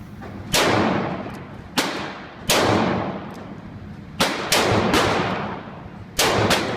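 A Rossi M33 snub-nose .38 revolver fires six sharp, loud shots at uneven intervals, each report booming and then fading into a short echoing tail, with no talking.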